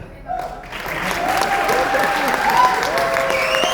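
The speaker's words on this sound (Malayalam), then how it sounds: "എല്ലാവരും നല്ലതായിട്ട് കൈയടിച്ചോ?" Audience at an event bursts into sustained applause that swells within the first second and holds steady and loud, with faint voices mixed in underneath.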